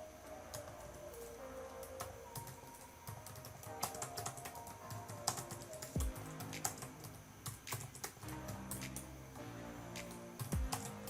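Fingers type a document title on a computer keyboard in Microsoft Word, giving a close, quiet, irregular run of crisp key clicks with brief pauses and no talking.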